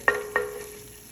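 Sardines with tomato paste stirred in a pan make two quick close scrapes against a faint sizzle.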